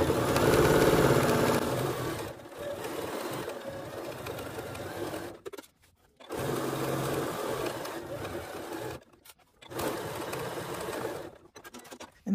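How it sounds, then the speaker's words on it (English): A sewing machine with a 1/4 inch foot stitches the seam of a sun hat brim, running in several bursts of steady mechanical whirring separated by short pauses. "I'm going to start at my seam using my 1/4 inch foot."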